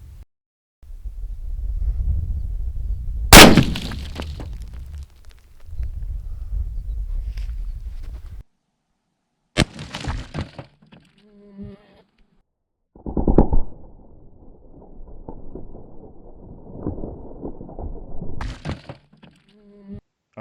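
A Henry .45-70 lever-action rifle fires outdoors at cinder blocks, one sharp loud shot followed by several later bursts and impacts, with stretches of quiet and low rumble between them.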